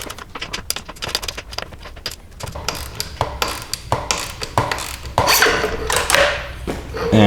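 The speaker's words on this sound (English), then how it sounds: "grab yourself a decent sized ratchet to try and break these loose" A decent-sized ratchet works loose the fork lower pinch bolts on a Honda CRF250L motorcycle, producing rapid close metallic clicks in bursts with clanks of tools and parts.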